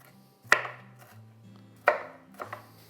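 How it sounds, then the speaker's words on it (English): Knife chopping jalapenos into small pieces on a cutting board, three sharp close knocks spaced about a second and a half apart with a faint background hum, no voices. "Now I'm going to cut those jalapenos up into very small pieces"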